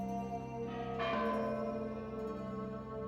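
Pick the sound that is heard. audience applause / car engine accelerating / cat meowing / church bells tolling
church bells tolling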